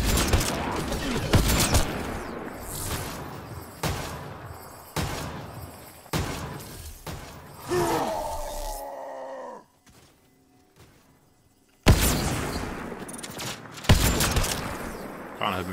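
Bursts of gunfire in Mass Effect Andromeda combat, loud and close, coming in repeated volleys with brief gaps and one short near-silent pause before the shooting resumes.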